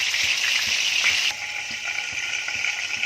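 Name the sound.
masala frying in hot oil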